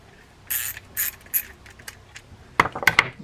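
A ratchet works a nut loose on a Penn SpinFisher 450 SSG 4th Gen fishing reel, with a few short bursts of clicking followed by light metallic taps and jingles, close and fairly quiet.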